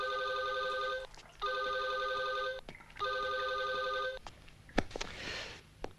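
An unanswered phone gives three evenly spaced electronic rings, each lasting about a second, then stops and is followed by a few faint knocks and rustling.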